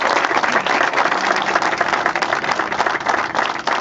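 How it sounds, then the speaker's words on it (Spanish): A crowd at a political campaign launch in Malvinas Argentinas bursts into loud, dense applause, with many hands clapping at once and staying strong throughout. "Un aplauso, por favor."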